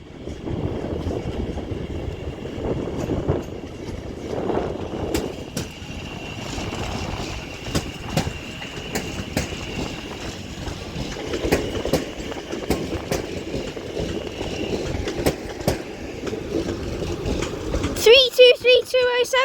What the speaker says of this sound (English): with the next West Midlands Railway unit with a Class 323 terminating here at Manchester Piccadilly